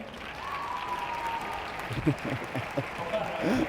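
Audience applause for a speaker at a tech talk, steady mid-level clapping throughout with some voices mixed in near the end.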